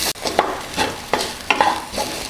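Grated coconut sautés in a pan for Chettinad egg drop curry, heard as rhythmic scraping strokes, about five in quick succession, over a soft sizzle, close and fairly loud.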